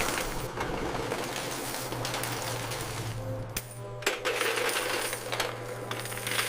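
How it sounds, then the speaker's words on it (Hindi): Coins poured into a bank's coin counting machine: a dense, continuous metallic clatter and jingle of many coins, close and busy, over a low mechanical hum, with no talking. "सिक्कों को गिनने और वितरण के लिए मशीन में डाला जाता है।"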